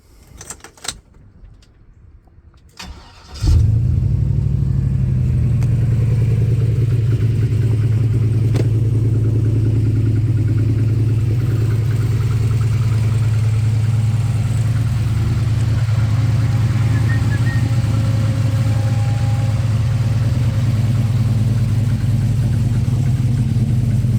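A turbocharged 6.0L Chevrolet 2500HD pickup with a 4-inch exhaust and MagnaFlow muffler cranks and fires up after a few seconds of quiet, then settles into a loud, steady, deep idle close by.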